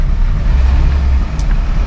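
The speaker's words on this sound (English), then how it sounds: "there's a lot of traffic here" Dense rush-hour road traffic on a busy South African town street, a steady low rumble of cars, buses and trucks passing nearby, loud and continuous with no voices.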